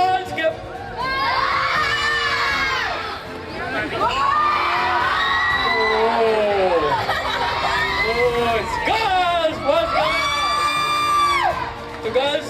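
A crowd of walkathon participants, many of them young, shouts and cheers in loud, sustained bursts of high-pitched yelling that rise and fall in waves, close by.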